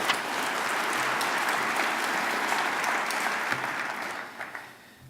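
A college audience at a spring opening meeting claps in a sustained, dense round of applause that holds steady and then tapers off toward the end.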